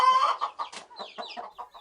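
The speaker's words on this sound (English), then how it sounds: "He has more than 20 native hens and roosters in his farm." Native hens and roosters on a small poultry farm in Bhutan cluck in a run of short, close, overlapping calls, with a brief squawk near the start and no talk.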